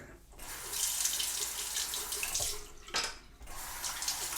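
Tap water running into a bathroom sink to rinse a face after a shave, a close, steady splashing rush broken by short pauses and changes as hands move through the stream.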